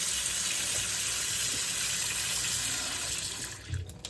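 A newly installed kitchen tap runs in a steady, loud gush of water with spluttering, hissing flow that tapers off near the end as the tap is turned down.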